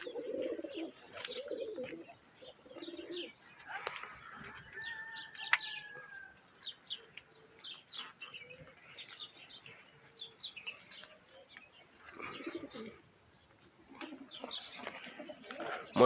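Pigeons on a rooftop coo in soft, repeated bursts with occasional wing flaps, close by, over a steady outdoor background.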